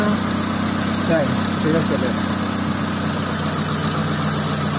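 A motorcycle engine runs at a steady idle before a Twin Light ignition module is fitted, a constant mid-low drone with a faint voice underneath.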